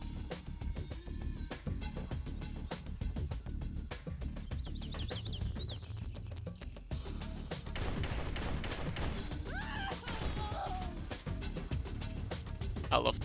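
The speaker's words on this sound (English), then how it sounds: "I love the golden SMG." Rapid bursts of automatic gunfire from a golden SMG in the turn-based strategy game X-piratez, repeated volleys mixed with chirping effects and crashes, moderately loud throughout.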